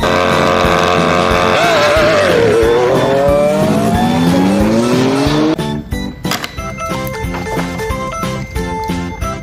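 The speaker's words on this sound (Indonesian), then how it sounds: "Wow, mobil balap warna oranye oh," An orange Lightning McQueen toy race car is heard as a loud, revving, engine-like whine that sweeps upward, then gives way to quick clattering and jingling bursts.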